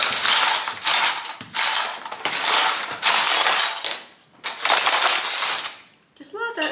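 Scrap glass pieces are scooped with a dustpan and broom and tipped into a bin, giving loud bursts of clinking, rattling shards in several waves, close by, with a brief voice at the end.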